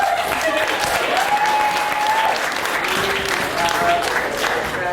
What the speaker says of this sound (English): Big round of applause for Rachel, if you will.